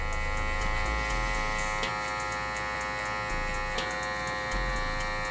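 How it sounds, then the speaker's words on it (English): Electric hair clipper running with no guard, its blade closed all the way while cutting the first guideline of a low burst fade; a steady close buzz with faint ticking, continuous and alone. "Now I got the clipper, no guard. Gonna go ahead and close it all the way and set in my first guide."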